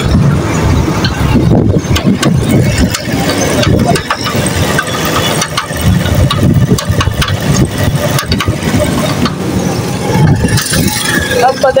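An engine cranks, catches and settles into a loud rattling idle close by, with some indistinct voices now and then underneath.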